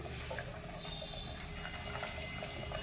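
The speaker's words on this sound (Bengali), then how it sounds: "এখন লুচিগুলোকে ভেজে নিচ্ছি" Luchi fry in hot oil in a pan with a continuous, fairly faint bubbling hiss that stays steady and unbroken from start to finish.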